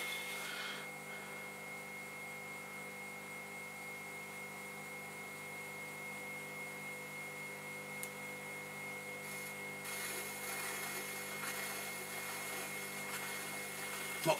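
A clay vase being trimmed at its base on a spinning pottery wheel, giving a steady, even whirring hum with faint scraping and rubbing throughout, a little brighter and louder toward the end, with no talk.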